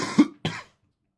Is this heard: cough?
yes